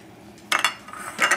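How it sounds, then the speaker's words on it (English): A utensil stirs fish and red bean soup with scallions and cilantro in a pot, giving two brief bursts of close metallic clinking and scraping. "Give it a nice mix,"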